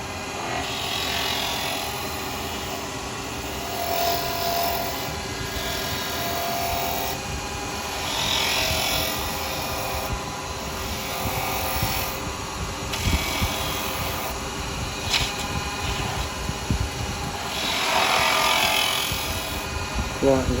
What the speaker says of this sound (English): Now I'm just using a little 9mm carbide here